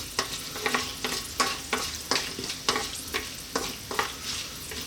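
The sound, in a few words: whole spices sizzling in oil for biryani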